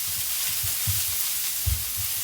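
Spring onion and corn stirred in a hot pan for Chinese noodle soup, frying with a steady hiss while soft scraping knocks from the stirring recur every half second or so, close and clear.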